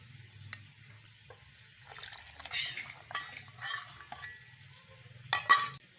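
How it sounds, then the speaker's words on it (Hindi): A cup of yogurt is added to a grinder jug already holding coarsely chopped tomatoes for a chicken karahi paste, with soft plops, light clinks of utensils against the jug and a faint background hum. "अब इसमें 1 प्याली दही डाल लेंगे।"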